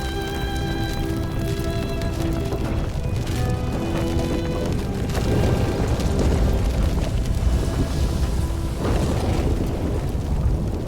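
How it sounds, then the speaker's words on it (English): A house burning in the video game The Midnight Walk: a dense, steady roar of fire with rumbling low crackle and bursts, loud and continuous throughout, with musical tones layered over it. "Oh no, he caught Housey on fire."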